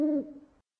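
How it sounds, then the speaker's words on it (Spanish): A barn owl gives a single short, harsh call that trails off within about half a second, heard alone and fairly close against silence. "La lechuza gritando, pijuy, pijuy."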